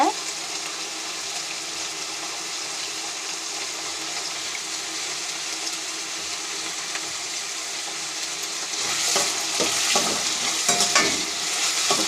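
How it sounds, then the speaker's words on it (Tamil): Potato fry being stirred with salt in a pan, a steady close sizzle of frying with scraping strokes that grow louder and busier near the end. "நல்லா கிண்டி விட்டுக்க போகிறோம் தேவையான அளவு உப்பு இதோட சேர்த்துக்கோங்க"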